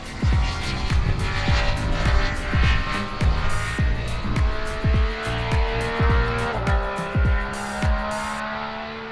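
A 2025 Triumph Speed Triple 1200RS is ridden hard, and its close engine note climbs and falls repeatedly through the gears in a rhythmic series of rev surges, with no voices.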